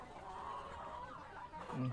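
Chickens on a farm where roosters are raised for sale, giving low clucks and a short burst of fowl calls near the end, faint and mixed with background murmur.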